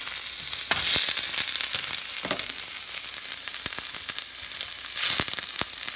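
Wild salmon fries in a non-stick pan over medium heat, giving a steady, close crackling sizzle with scattered sharper pops throughout and no talking.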